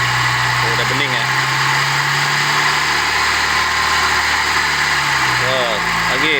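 A Mitsubishi Lancer engine runs loud and close during a radiator flush, a steady mid-pitched drone with slight rises in revs, while people talk briefly over it.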